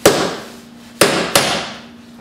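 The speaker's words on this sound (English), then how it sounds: "knock the underside of the dykes with the hammer" A hammer strikes the underside of diagonal cutting pliers three times, sharp ringing taps close up with a lingering metallic decay, the last two hits coming in quick succession.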